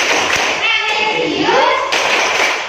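A fourth-grade class in Indonesia performs the BPK clapping routine, with rhythmic hand claps and thumps mixed into loud group chanting by the children.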